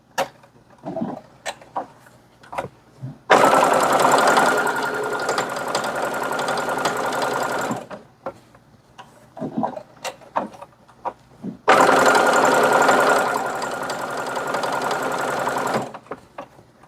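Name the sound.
manual sewing machine stitching a tea coaster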